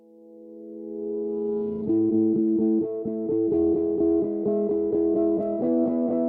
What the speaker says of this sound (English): You can hear the filter sort of slowly opening up.